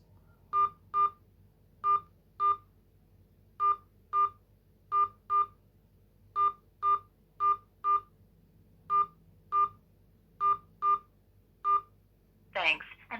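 Telephone keypad tones sound as a card number is keyed in on a banking phone line, a long run of short, evenly pitched beeps in pairs and small groups with brief gaps, clear and close over a faint hiss.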